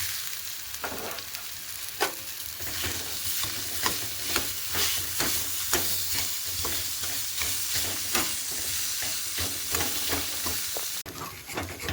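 Potato pieces fry with onion and chopped chilli in oil in a wok, a continuous sizzle with rhythmic scraping strokes of a spatula stirring throughout.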